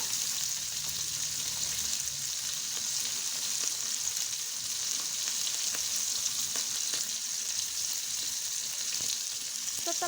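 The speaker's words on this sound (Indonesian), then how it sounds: "Kita masukkan semua bumbu irisan tadi, termasuk cabai, bawang merah dan bawang putihnya ke dalam wajan." Sliced chili, shallot and garlic sizzle steadily in a hot wok while being stirred, a loud, continuous frying hiss with faint scraping, and no talking.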